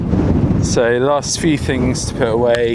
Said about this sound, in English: Apologies, it's really windy.